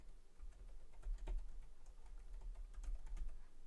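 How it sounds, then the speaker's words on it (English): Quick, irregular clicks of keys on a computer keyboard, close and fairly quiet over a low background hum, with no talking. "Let's see if I can type."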